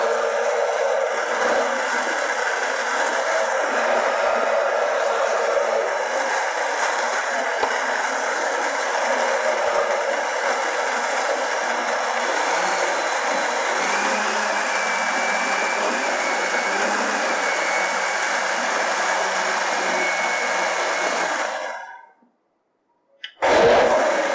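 A blender mixes cake batter with powdered milk and flour in one long, steady, loud whirring run that cuts off near the end, with a short restart after a brief gap, no talking.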